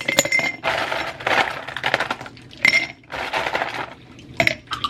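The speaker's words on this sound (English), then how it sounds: "I'm gonna fill my cup with ice." Ice cubes clatter into a cup for an iced espresso drink, a dense run of clinking and rattling in bursts, close and loud.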